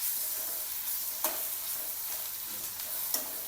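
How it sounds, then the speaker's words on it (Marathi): Onion with ginger-garlic paste and curry leaves sautés in a pan, a close, steady sizzle broken by a few scraping stirs of a spoon, with no talking. "कढीपत्ता, कापलेला कांदा, कांद्याला परतून घ्यायचं।"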